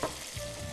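Chicken breast fries in a pan with oil, giving a steady close sizzle and crackle and a brief stirring scrape at the start, with no voices.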